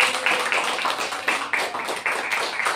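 A church congregation clapping hands together in a steady, quick rhythm, with many crisp claps close and fairly loud.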